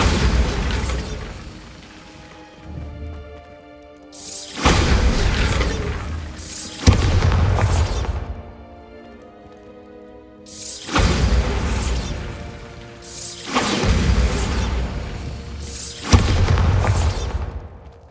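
Bombarda blasting spell explosions in the video game Hogwarts Legacy, several loud booming blasts with crackling debris, each fading into a ringing tail before the next hits.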